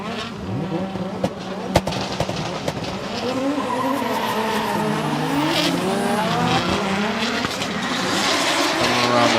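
Nissan S15 Silvia and Toyota JZX100 Mark II drift cars chase each other at Okuibuki Motorpark in Shiga, engines revving hard and tires squealing in long, wavering screeches. The sound is close and loud, with a few sharp pops near the start.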